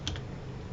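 A short, close burst of computer keyboard typing while a folder name is entered, with a couple of quick crisp keystrokes near the start and then a quiet room hum.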